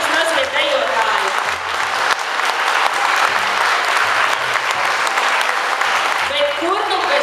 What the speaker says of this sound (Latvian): Veltīsim viņiem aplausus, sakot paldies ikvienam, paldies jums mazie dejotāji!